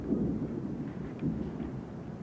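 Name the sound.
thunder of an approaching storm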